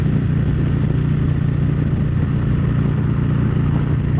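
A motorcycle cruises along a road, its engine a steady, loud drone with wind rush that holds constant throughout, no voices over it.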